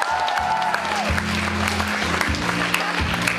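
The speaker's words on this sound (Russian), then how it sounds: "Ваши бурные аплодисменты." Stormy applause from the audience at a Miss Gantsevichi 2008 beauty pageant, dense clapping throughout with a low musical hum and faint voices mixed underneath.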